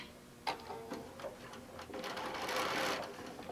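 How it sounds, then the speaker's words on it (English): A sewing machine stitches a quilt border, its needle tapping in quick close bursts that build into a steady rapid run, fairly quiet and heard alone. "and we'll start stitching it"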